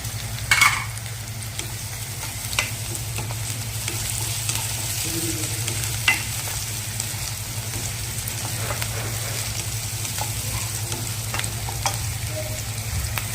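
Onion and one tomato sautéed and stirred in a pan for whole moong usal: a continuous close sizzle with occasional sharp spoon clicks and scrapes against the pan, no voices.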